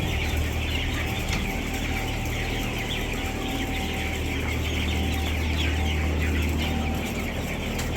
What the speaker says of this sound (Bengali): মুরগি কয়টা ও নিচে পড়ে আছে